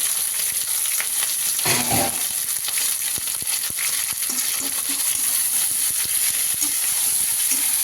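Chicken pieces frying lightly in a pan at home, a steady close hiss and crackle with scattered sharp pops and a brief stirring clatter, against a constant high-pitched whine.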